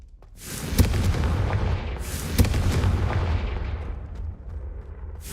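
The Confringo fire blast spell in the game Hogwarts Legacy sets off loud booming explosions, with two sharp blasts followed by a rolling roar that slowly fades.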